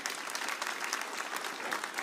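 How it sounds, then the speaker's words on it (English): A church camp audience applauds the youth group, a steady wash of many hands clapping at moderate volume with a few voices mixed in. "give them a round of applause"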